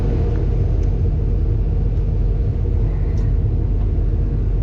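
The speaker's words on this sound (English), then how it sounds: "This truck is an M818 and it's with winch." An M818 military truck fitted with a winch rumbles at a loud, steady low drone while moving through mud, with no speech.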